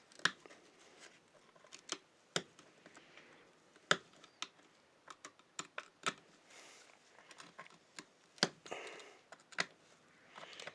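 Steel screwdriver pressure-flaking an obsidian blade, giving sharp isolated clicks and snaps at irregular intervals, close and crisp, with faint scraping as the steel slides on the stone between flakes; no talking.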